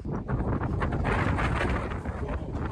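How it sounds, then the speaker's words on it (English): Strong, gusty wind on Monviso in the Alps roars and buffets the microphone continuously, loud and close, with no one speaking. "Oh man, it's proper windy."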